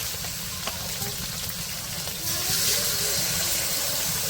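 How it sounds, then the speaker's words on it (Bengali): Spice paste with chili and turmeric powder sautéed in a pot for a chicken curry, giving a steady close sizzle that swells louder partway through, with faint background noise and no talk. "এখন মশলাটা কষিয়ে নেবে ভালো করে"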